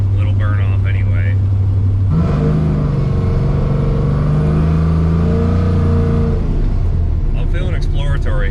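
A Chevrolet Monte Carlo with an LSA engine driving onto a turnpike, its deep engine drone swelling under acceleration in the middle and easing off, loud and close from inside the car, with a voice briefly heard at the start and end.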